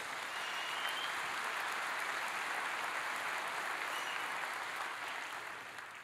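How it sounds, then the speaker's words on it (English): A church congregation gives a sustained hand clap of praise during a sermon, a steady, broad wash of many people clapping heard from across a large room, tapering slightly at the end. "Give the Lord a hand clap of praise."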